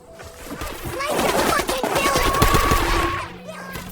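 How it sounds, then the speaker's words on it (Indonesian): Gunfire in a film firefight between armed separatist militia and loyalist government soldiers on top of a building, dense bursts of automatic fire and crashing impacts, loud and continuous before easing near the end, with faint voices in the mix. "Lee, Joel, dan Jessie meliput baku tembak yang terjadi antara milisi separatis bersenjata melawan tentara pemerintah loyalis yang berada di atas gedung"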